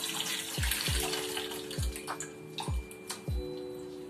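Soaked tamarind being squeezed and strained by hand in water, close wet sloshing with about five quick splashy squelches against a faint steady hiss.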